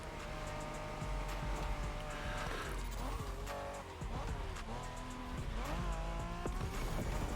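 A race car engine in the video game The Crew Motorfest revs continuously with sharp tire squeals, gear shifts and a nitrous boost, loud and close, a dense game soundtrack underneath.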